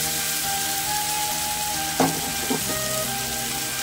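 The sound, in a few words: marinated jackfruit sizzling in a wok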